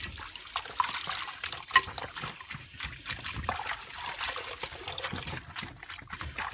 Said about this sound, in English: You're wasting so much water cleaning them